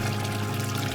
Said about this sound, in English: You can just take the cup and dip it in there.